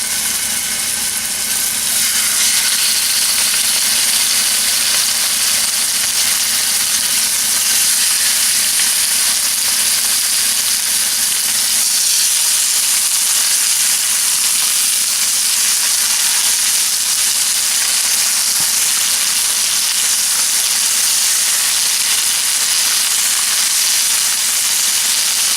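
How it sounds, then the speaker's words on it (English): Tenderloins sizzle loudly and continuously in a hot cast iron pan, a dense, steady frying hiss close up with no voices over it. "See that sizzle?"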